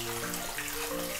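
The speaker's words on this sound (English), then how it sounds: "put it in the sink and then fill the sink up with water" Tap water running steadily into a plugged sink, a continuous close rushing hiss with no talking.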